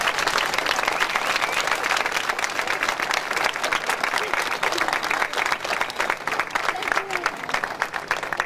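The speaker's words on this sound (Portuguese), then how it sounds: "Uma salva de palmas." An audience claps at an outdoor band concert during a festival on Graciosa, a continuous dense patter of many hands, loud and close, holding steady throughout with a few voices faintly mixed in.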